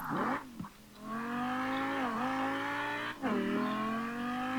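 A car in Forza Horizon 4 holds a steady, loud engine drone with shifting pitch, dipping and rising as it revs and the tires scrub through turns.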